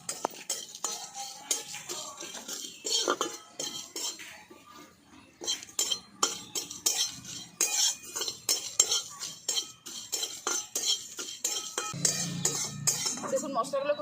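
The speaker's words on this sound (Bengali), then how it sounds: "দেখুন মশলাগুলোকে খুব ভালো করে ভেজে নিয়েছি, আর বেশ সুন্দর একটা গন্ধ বেরিয়েছে।" Whole fennel, cumin, coriander seeds and dried red chilies are dry-roasted in a pan, with an uneven run of close spatula scrapes, rattles and metallic clinks and almost no sizzle.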